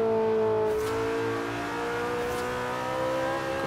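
A McLaren 570S sports car engine in the Forza Horizon 3 driving game gives a steady, smooth drone as it cruises, its pitch easing slightly upward, close and even with no talk.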